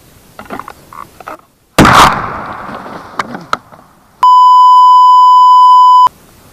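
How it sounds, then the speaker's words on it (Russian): A Tula shotgun goes off after a delayed ignition (hang fire): one loud, close blast with a decaying rumble, followed a couple of seconds later by a steady, piercing electronic beep. "Это что, затяжной выстрел, наверное?"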